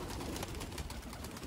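A wary pigeon gives a brief soft cooing call, close and alone with no other sounds.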